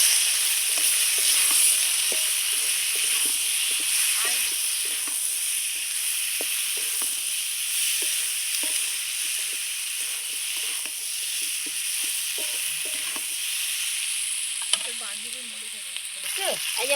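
Chopped onion and turmeric fry in a pan with a continuous, loud sizzle, punctuated by occasional stirring scrapes and a clink near the end.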